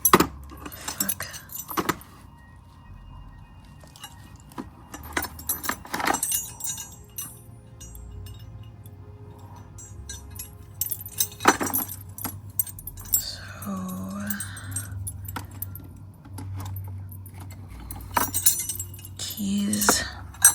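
Large old metal keys jangle and clink as they are pulled from a small trunk found in a swamp, in scattered close bursts with handling noise between them and occasional quiet voices.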